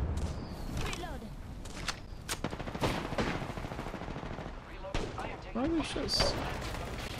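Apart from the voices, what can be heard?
gunfire in Apex Legends video game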